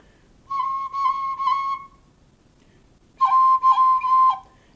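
A tin whistle plays two short phrases of the same note decorated with quick tap ornaments in Irish style, clear and close, with a pause between the phrases.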